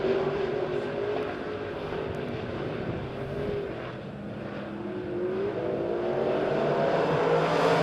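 Street stock race cars roar past at Springfield Raceway, a steady loud engine drone that swells and fades slightly as the pack comes off a turn, with no talk over it.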